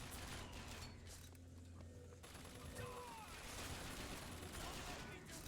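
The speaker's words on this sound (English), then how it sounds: "That gun turret's still putting in work" Sustained gunfire from a turret in the Bioshock Infinite game, a dense, steady barrage of rapid shots with mechanical clatter running throughout, loud and continuous.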